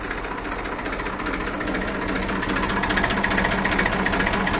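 A 1999 Massey Ferguson 1035 DI diesel tractor in good condition runs steadily nearby, its loud, even rhythmic knock continuing throughout and rising slightly in level, with no talk over it.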